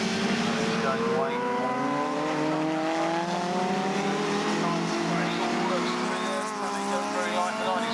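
Saloon race cars at Lydden Hill circuit, several engines droning and shifting pitch together as they pass, loud and sustained, with a commentator talking over them.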